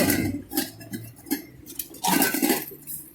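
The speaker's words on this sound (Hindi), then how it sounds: "कितने बर्तन उठा लिए?" Metal cooking pots and utensils clink and clatter as they are picked up and handled outdoors, a series of sharp, close metallic knocks and rattles in irregular bursts.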